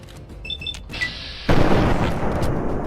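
A frag mine detonates in Fallout 3: a sudden, loud, broadband blast about halfway through, followed by a sustained rumbling roar. It comes after quieter game sounds that include a few short electronic beeps.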